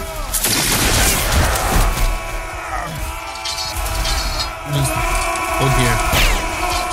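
Musket volleys from a line of soldiers at a Waterloo battle reenactment in Naples, with sharp loud bangs over crowd noise and shouted commands between shots.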